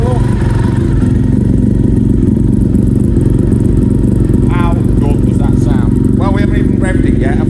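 A one-off Honda VFR400 NC35 motorcycle with a Monkey exhaust idles close by with a steady, throbbing rumble, and someone talks over it during the second half.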